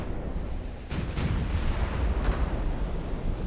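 A warship's ammunition magazine detonates in the naval battle game Ultimate Admiral: Dreadnoughts, a heavy low rumbling blast that swells from about one second and rolls on under constant battle din, with a few sharp cracks on top.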